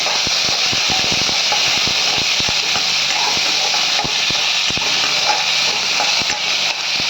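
Curry leaves sizzling in hot oil in a pan while making coriander rice, a steady loud crackling hiss with scattered pops throughout.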